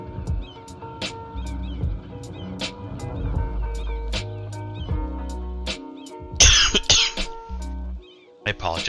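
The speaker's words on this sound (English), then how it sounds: "I apologize for the coughing." A player coughs harshly in a short burst while building a city in a game, over quieter background game sounds and light clicking. Fainter throat-clearing noises come earlier in the clip.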